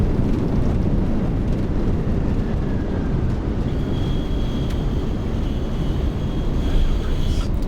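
Lufthansa Cargo MD-11F rolling out after landing at New York JFK with spoilers deployed, a loud steady broadband roar of engines and airflow filling the cockpit throughout, with faint tones and chatter in the background.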